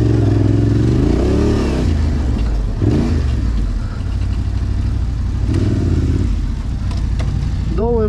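A Yamaha MT-07 motorcycle ridden by a learner, its engine revving close by with rising and falling pitch sweeps, then dropping back to a rough idle before a final quick rev.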